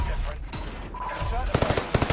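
Automatic gunfire in Call of Duty: Warzone, with rapid close bursts growing denser and punchier toward the end over game ambience, a voice faintly present.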